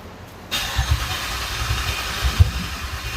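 A 2007 GXP car engine runs at the exhaust after a cam gear swap and is spilling unburnt fuel; a loud, steady, rough rumble kicks in abruptly after half a second and continues with uneven low pulses.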